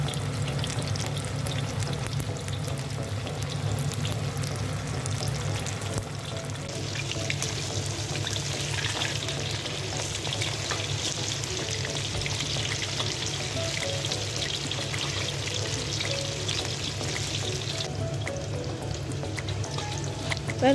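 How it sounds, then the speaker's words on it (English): Tofu pieces fry in hot oil for a Chinese-style braised tofu dish, a dense, continuous sizzle close by that swells brighter as more pieces go in, then settles back to a steady crackle. "Slowly place the tofu one by one to fry"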